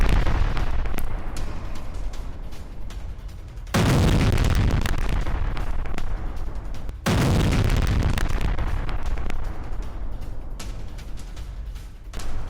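Heavy artillery bombardment on a Russian position in the Russia–Ukraine war, with loud booming blasts that swell into two long sustained rumbles around a continuous roar of explosions, no talk.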